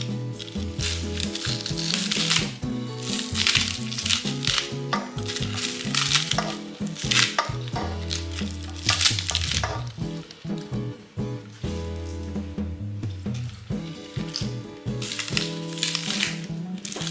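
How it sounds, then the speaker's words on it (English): A knife cuts through onions for Nigerian red stew, giving repeated crunchy chopping strokes in an uneven rhythm over a steady tonal background. "I'm going to cut up a couple of these onions."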